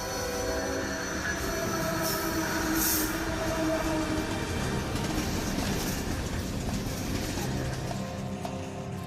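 A train carrying migrants rolls through Mexico, its wagons rumbling and clattering steadily up close with wheels squealing, a continuous loud roar with no voices.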